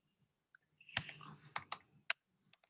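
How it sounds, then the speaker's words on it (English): A phone number is tapped out on a keyboard, irregular single key clicks and a short burst of quick presses, close and quiet in an otherwise still room. "I'm just typing my number."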